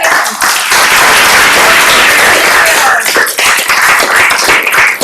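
Loud, continuous applause from an audience at an introductory event as sponsors are thanked, dense clapping sustained for the full stretch.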